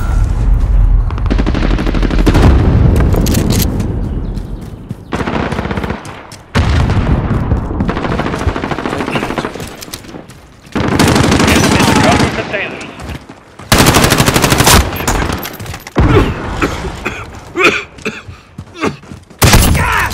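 Heavy video game combat with loud, sustained machine-gun bursts, single shots and booming explosions in a multiplayer shooter match, fairly close, with brief radio-style voice callouts mixed in.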